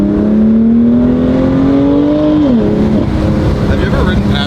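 BMW F87 M2 Competition with a Valvetronic Designs exhaust droning loud and steady from close by, its tone climbing slowly, dipping sharply, then settling back, with voices talking over it.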